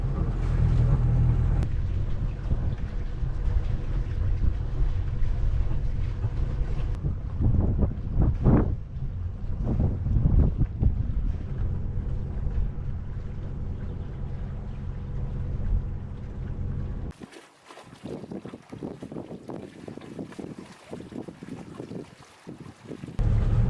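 A sailboat engine running just above idle while sailing among islands in Norway, a low steady rumble under heavy gusting wind noise and water wash, the texture shifting partway through as the wind buffets the microphone.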